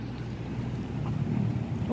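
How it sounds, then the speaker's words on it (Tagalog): Strong wind outdoors in Clark, Pampanga buffets the microphone, a steady loud low roar lasting a couple of seconds with no talk. "Oh my God, ang lakas ng hangin."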